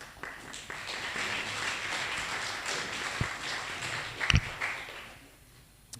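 Applause from a conference audience in a hall, a steady wash of many hands clapping that fades toward the end, with a couple of louder thumps partway through.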